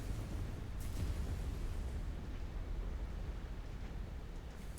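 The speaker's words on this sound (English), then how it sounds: "It's scary hearing all the explosions." Rumbling explosions in the MechWarrior 5 game, a heavy, continuous low roar of blasts of moderate loudness, heard alone without speech.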